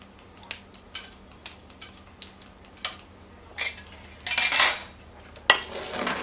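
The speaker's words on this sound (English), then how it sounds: "I'm just going to break that up in the pan" Dry dehydrated sweet peppers broken up in a pan, a series of light crisp clicks and rattles at an uneven pace, growing into louder crunchy bursts near the end, close and with no voices.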